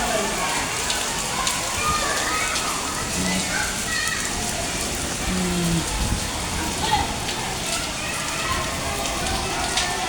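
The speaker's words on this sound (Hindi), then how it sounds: "बारिश हो रही है।" Rain pours down during a summer downpour, a steady dense hiss and patter on surfaces that fills the whole stretch, with people talking faintly over it.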